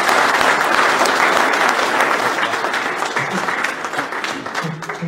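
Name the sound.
audience applauding the volunteers at fishing championship podium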